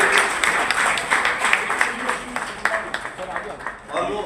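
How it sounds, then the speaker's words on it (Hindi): Audience clapping at a trophy presentation for a cricket tournament in Agra, a ragged, steady patter of many hands running throughout, with someone talking over it. "सर इधर ताली बजा दीजिए सभी भाइयों के।"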